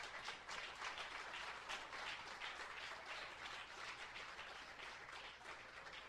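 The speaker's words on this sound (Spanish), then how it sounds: "Denle un aplauso a Jesús, amado." Faint, steady applause from a church congregation fills the space evenly, a soft continuous wash of clapping heard from a distance.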